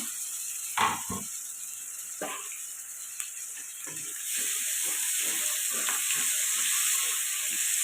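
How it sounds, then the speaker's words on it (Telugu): Ginger garlic paste and tomato pieces fry in a pan for chicken biryani, a steady close sizzle that grows louder and denser midway, broken by a few stirring scrapes. "అల్లం వెల్లుల్లి పేస్ట్ కూడా పచ్చివాసన పోయేదాకా ఫ్రై చేసుకోనండి"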